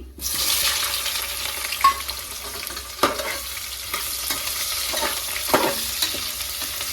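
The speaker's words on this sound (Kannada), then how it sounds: "ನೋಡಿ, ಈರುಳ್ಳಿ ಫುಲ್ ಬ್ರೌನ್ ಕಲರ್ ಆಗೋವರೆಗೂ ನಾನು ಫ್ರೈ ಮಾಡ್ಕೊಂಡಿದ್ದೀನಿ." Onions fry in hot oil with cardamom and cinnamon for egg biryani. A loud, steady sizzle runs close and unbroken, with occasional scraping stirs and a few brief knocks of a utensil against the pan.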